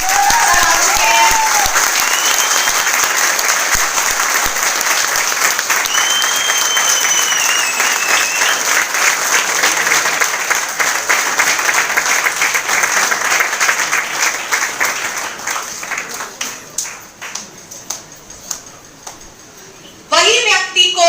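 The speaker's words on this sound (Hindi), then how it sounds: "एक बार सर के लिए जोरदार तालियां।" Loud, sustained applause from a seminar audience welcoming a guest, dense clapping for around fifteen seconds that thins into scattered claps before talk resumes.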